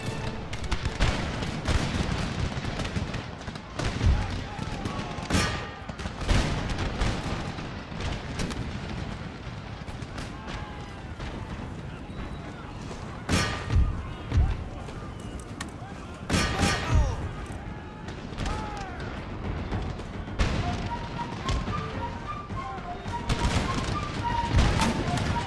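Cannon artillery fires across a battlefield in Empire: Total War, with repeated heavy booms and crackling musket volleys in scattered bursts, while a voice talks over the battle.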